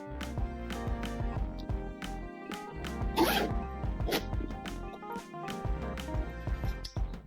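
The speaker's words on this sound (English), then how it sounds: "So you do have a back zipper pocket" A zipper runs along the back pocket of a Coach leather handbag in a series of short rasping pulls, close and fairly loud, layered over steady background music.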